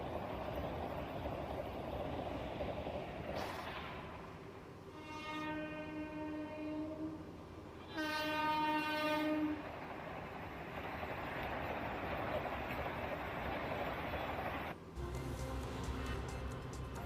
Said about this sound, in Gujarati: અમદાવાદના કાલુપુર રેલવે સ્ટેશનથી પહેલીવાર નવી 20 કોચવાળી વંદે ભારતનું ટ્રાયલ થયું અને જુઓ કેવી સડસડાટ દોડી.